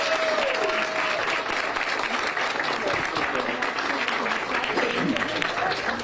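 A crowd applauds a couple celebrating their 25th anniversary at an outdoor morning event, sustained clapping and cheering under an announcer's voice, loud and continuous.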